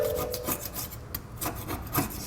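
Repeated rasping scrapes strip leftover tape and sealer from the body of a 2022 Mazda CX-5, a close, rhythmic rubbing over a couple of seconds with no talk.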